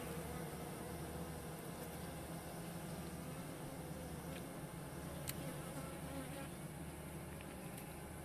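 Honeybees buzzing at a beehive entrance in Trabzon, bringing in cornelian cherry pollen; a faint, steady swarm hum with an occasional louder bee passing close, no talk.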